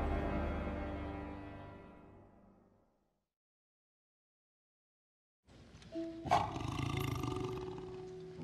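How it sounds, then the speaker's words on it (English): A tiger gives a deep, loud roar that fades away. Silence follows, then a second rough, rumbling roar swells up close. "Ezekiel has a tiger."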